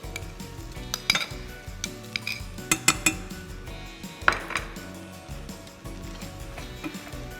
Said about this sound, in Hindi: दोनों चीज़ों को मिक्स करके अच्छे से फ्राई करेंगे